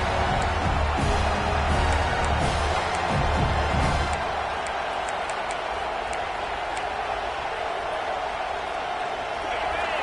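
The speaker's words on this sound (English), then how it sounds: "this crowd is fired up. Listen to this noise here." Steady roar of a large college football stadium crowd cheering throughout a Miami at Penn State game, with a deeper rumble of noise during the first few seconds that then eases.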